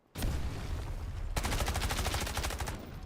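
Automatic gunfire in a shooter video game, a loud sustained burst of rapid shots that begins abruptly and then settles into a fast, evenly spaced machine-gun rhythm.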